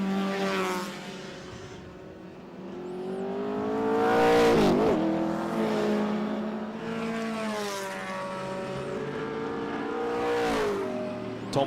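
Historic racing cars, an Alfa Romeo among them, roar around the circuit at a speed festival, engines rising and falling in pitch as they pass in waves, loud and continuous with revving swells.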